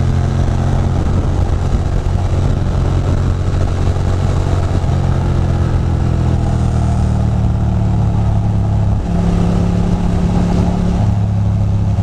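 A motorcycle engine holds a steady, loud drone as the bike rides a twisty back road (Old Route 17), with pitch shifting as it changes gear and speed, continuous throughout.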